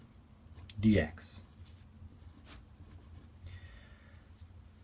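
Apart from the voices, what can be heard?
writing out a math integral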